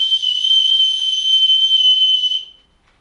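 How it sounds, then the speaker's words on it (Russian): A training whistle for a Kurzhaar pointer dog sounds one long, steady, shrill blast of about two and a half seconds, loud and close, then stops into near silence. "Вот сейчас давай опять длинный свисточек."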